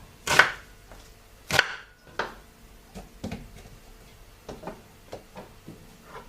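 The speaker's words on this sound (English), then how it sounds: "There's our chopped tomato" Knife chopping tomato on a cutting board while making curry sauce, a few sharp cuts followed by a string of lighter, quicker taps, close and otherwise quiet.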